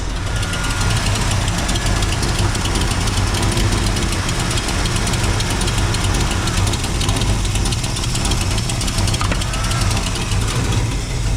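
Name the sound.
1956 Chevrolet Bel Air engine idling during carburetor tuning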